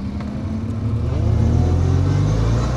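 A front-engined, rear-wheel-drive classic car accelerates hard down a straight at a classic car event, its engine note climbing steadily in pitch as the revs build, loud and close, with no voices.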